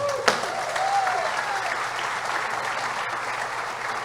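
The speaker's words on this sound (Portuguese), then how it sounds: "Uma salva de palmas!" A church congregation claps together in sustained, dense applause that swells quickly and holds steady, loud and close, with a brief whoop near the start.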